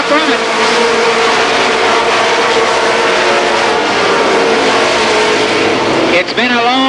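Race cars circle Columbus Motor Speedway during a 1990 Superstar Shootout, a loud continuous roar of several engines droning steadily throughout, with a commentator talking over it and a brief rising whine near the end.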